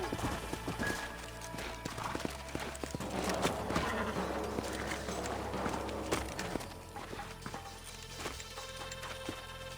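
Quiet clip-clopping of horse hooves in the video game Red Dead Redemption at an uneven walking pace, with soft scuffs and rustling over a low background hum.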